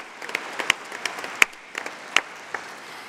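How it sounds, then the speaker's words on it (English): Conference hall applause thanking scrutineers and ballot staff, a light bed of clapping with a few loud, sharp claps close by punctuating it irregularly. "Can we have a special round of applause, please, for Sean and the scrutineers and the tellers and the ballot staff, please?"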